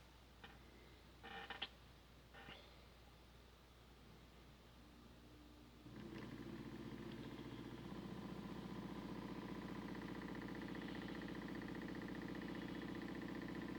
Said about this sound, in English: So the motor's running